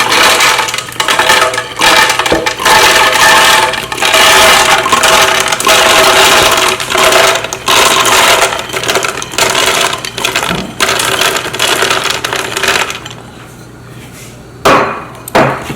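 A blender grinds peanuts loudly and steadily for about thirteen seconds with a rattling, chopping texture, then winds down and stops.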